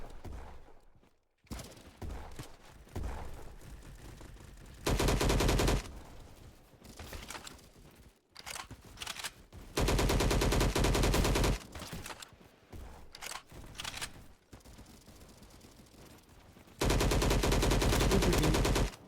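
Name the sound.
LMGX light machine gun firing in Roblox game Bad Business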